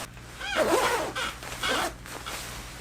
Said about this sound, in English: something immediately that I really like is this really thick zipper